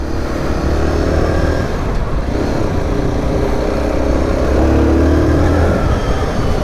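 Zontes R1 310 motorcycle engine accelerating while riding, a loud continuous engine drone with rising and shifting pitch over steady wind and road rush, no speech.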